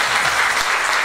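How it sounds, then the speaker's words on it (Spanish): A crowd at an anniversary celebration claps for comedians, a brief burst of steady, dense applause that stays loud and even throughout. "Un aplauso para los humoristas."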